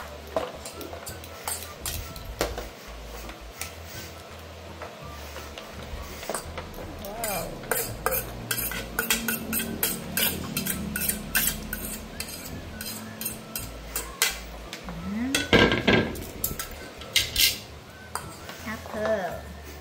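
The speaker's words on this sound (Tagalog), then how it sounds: "So, haluin na natin." Bitter gourd salad being tossed with tomato, onion, apple, calamansi and pepper, with scattered clinks and scrapes of a utensil against a bowl, a few louder knocks near the end, under a speaking voice.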